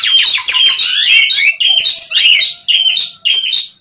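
A Javan pied starling (jalak suren) calls loudly and close by, pouring out a continuous stream of harsh, varied chattering phrases with brief pauses between bursts.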